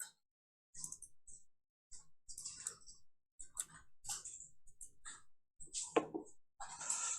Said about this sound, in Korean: 키 좀 눌러서 들여쓰기 이렇게 해주고요